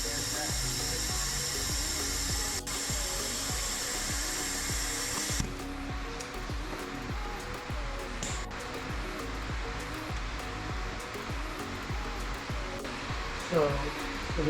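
A vacuum coolant filler on an Audi Q7 engine runs with a steady, loud, air-driven whoosh throughout, its high hiss dropping off partway, with occasional clicks and clunks.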